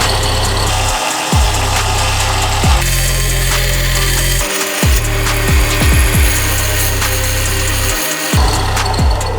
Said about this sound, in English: I just need to grind this down some. Shouldn't take too long on a belt grinder.